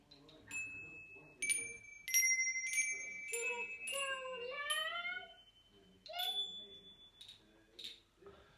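A handbell rung on Christmas Day gives sharp metallic strikes with ringing tones, struck in an uneven series of hits, some muffled, and voices talk and exclaim in between.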